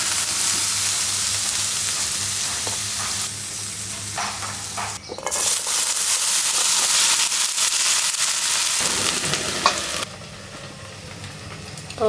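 Eggplant and other vegetables sizzle steadily in hot oil in a pan, a close, continuous crackling hiss broken by occasional scraping stirs and small spatters.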